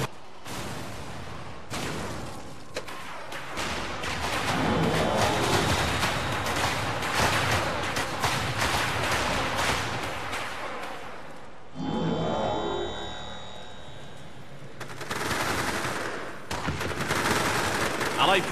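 Sustained bursts of gunfire and explosions from units in the video game Battle Battalions, dense rattling fusillades with a brief pause midway, loud and continuous.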